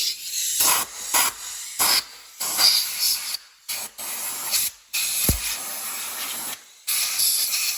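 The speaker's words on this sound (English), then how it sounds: "there's a lot of debris down in that hole, so I'm going to take my air blower" A compressed-air blower clears debris from the exhaust camshaft actuator hole on a Chevy Malibu engine. It sounds as a series of loud, close hissing blasts in short bursts of uneven length, separated by brief pauses.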